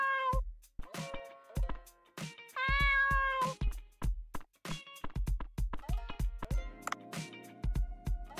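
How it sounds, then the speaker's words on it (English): A cat meowing in the video game Dave the Diver, a series of clear, close meows at an irregular pace, some short and some drawn out, with soft ticks and taps between calls. "Meow, meow, meow."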